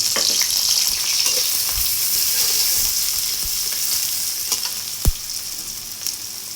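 Chopped onions frying in hot oil in a wok, a continuous close sizzle with scattered pops and a few sharp utensil knocks, steady throughout with no voices.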